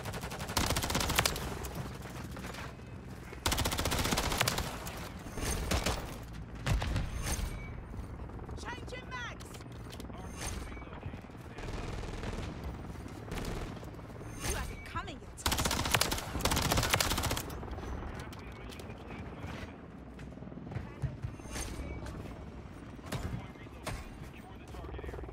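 Rival 9 submachine gun fire in Call of Duty MW3, repeated rapid bursts and scattered shots across a long stretch of play, loud and close, with a player talking between and over them.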